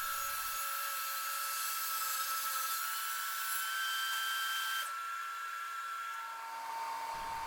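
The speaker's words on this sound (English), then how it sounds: "I'm just going to have to split this piece of lacewood or leopard wood, whatever you want to call it, into two halves" A piece of lacewood, also called leopard wood, is split into two halves by a power saw, whose high, steady whining buzz runs continuously and loud, with a slight shift in pitch partway through and no voices.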